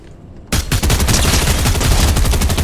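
Rapid automatic gunfire in a video game bursts in after a quiet moment and keeps rattling loud and close in a dense stream of shots.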